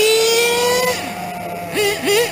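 A Kyosho RC car with a pull-start .21 nitro engine revs close by, its thin, high whine rising in pitch, dipping briefly and then climbing again in quick bursts.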